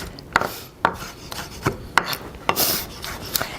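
A knife chops fresh garlic cloves on a cutting board, sharp crisp knocks at a slow uneven pace of about two per second, close and clear with no talking.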